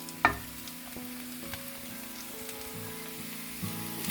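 Onion and chillies frying in a pan for restaurant-style chilli chicken, giving a steady soft sizzle throughout with a sharp clatter near the start and a few light knocks of stirring.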